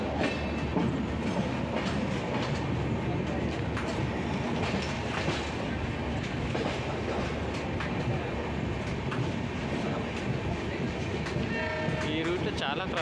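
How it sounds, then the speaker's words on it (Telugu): A train on the Konkan Railway rumbles past at a distance, a faint continuous roar with wheel clatter and a brief horn note near the end. "అటు నుంచి ఏదో ట్రైన్ వస్తుంది"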